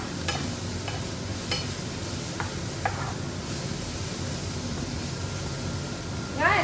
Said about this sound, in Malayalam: ബിരിയാണിക്കകത്ത് ഇടാൻ വേണ്ടി സവാള ഫ്രൈ ചെയ്യാം